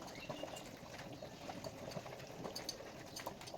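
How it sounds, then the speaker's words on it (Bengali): Egg curry gravy bubbles in a pot at a gentle boil, a faint, continuous soft burble heard alone. "ঝোল কি সুন্দর ফুটছে টকবক টকবক করে।"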